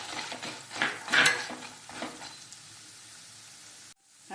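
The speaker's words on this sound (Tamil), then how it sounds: "நல்ல பொன்னிறமாக வறுப்பட்டுருச்சுங்க." Cashews roast to golden brown in a pan for a Tamil pepper rice dish, giving a soft sizzle with a few spoon scrapes and stirring clinks, loudest early on, then a quieter steady frying hiss that cuts off near the end.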